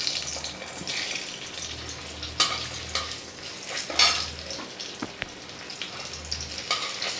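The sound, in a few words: potatoes frying in a wok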